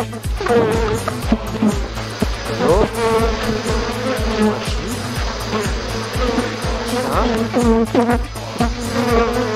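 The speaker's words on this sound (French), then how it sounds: "au son du bourdonnement des abeilles" Honeybees buzzing loudly and steadily around a hive as honey frames are pulled out during a harvest in Adamawa, with a dense, continuous close-up drone and faint music beneath.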